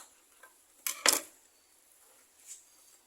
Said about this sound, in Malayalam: ഇനി നമുക്കൊന്ന് കട്ട് ചെയ്തെടുക്കാം ഇതിൻ്റെ തണ്ട് ഭാഗം കുറച്ച് മുറിച്ച് കളയാം